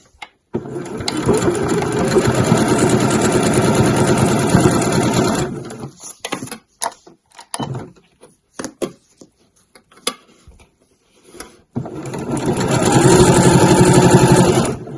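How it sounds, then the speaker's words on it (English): A sewing machine stitches right along the edge of the binding on a mesh laundry bag, running loud and close in a long steady burst, then falling to scattered handling clicks before a second sustained run. "I'm just sewing right on the edge of this binding here"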